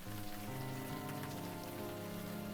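Steady rain in the video game Unavowed, a dense even hiss of drops on a surface under a low hum of background game music, constant and unbroken throughout.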